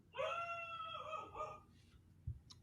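A dog howls indoors in a single sustained, wavering cry that holds for over a second and then trails off, fairly faint, followed by a couple of small knocks.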